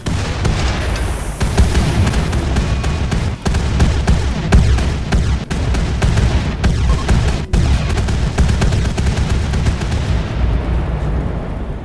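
Heavy booming explosions of antigrain warheads in Rimworld roll on continuously, loud and dense, with sharp cracks punctuating the chaotic din of a game battle.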